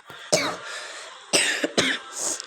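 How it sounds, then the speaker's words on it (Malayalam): Four sharp, rough coughs burst out in quick succession from a person sitting near the microphone, separated by brief silences, with no other voices. "ചുമയുണ്ട്"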